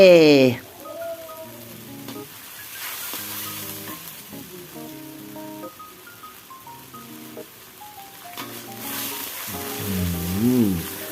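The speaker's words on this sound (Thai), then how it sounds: "ผมค่อยๆผัดไปนะฮะ" Vegan glass-noodle pad thai is stir-fried in a pan, giving a soft, continuous sizzle with scraping stirs under steady background music throughout.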